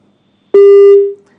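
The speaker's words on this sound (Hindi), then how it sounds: "खुशहाल साहब ने फ़ोन काट दिया है" A phone call's disconnected tone: a single loud, steady beep lasting about half a second that cuts off sharply, with near silence before and after.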